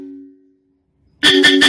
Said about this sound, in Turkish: Kornalarımızın fabrika ayarlarını açtık.